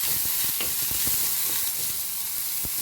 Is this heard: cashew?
yes